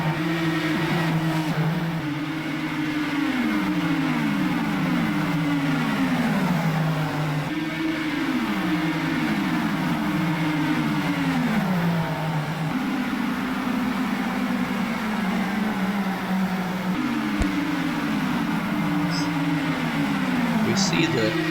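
IndyCar race cars scream around Homestead-Miami in a racing video game, with engine notes rising and shifting in repeated waves, steady and loud beneath continuous commentary.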